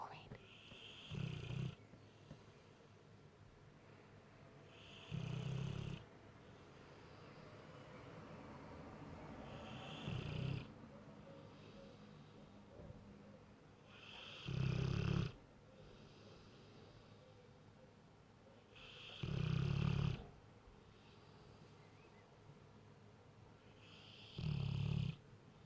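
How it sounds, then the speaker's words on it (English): A mastiff snores in loud, rhythmic bursts about every five seconds, each deep rasping snort rising above quieter breathing, with a person talking softly in between. "Stop snoring."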